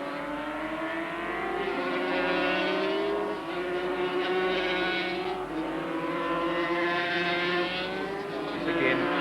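Racing motorcycles, including 250cc machines, at Oran Park circuit in a 1982 race, a steady loud roar of several engines rising and falling in pitch as they pass and brake, continuous with no breaks.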